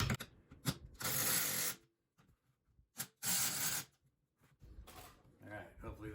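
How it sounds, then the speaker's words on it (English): A coilover spring compressor on a Nissan Xterra front suspension is tightened by ratchet in close, clicking bursts, with two longer rough grinding stretches and brief pauses between turns. "So I'm gonna tighten the spring up just a teeny bit more."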